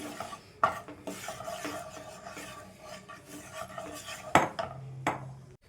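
Puffed rice stirred and roasted in a pan with oil and turmeric over a medium flame: steady dry rustling and scraping of a spoon against the pan, with a few sharp metallic clinks standing out.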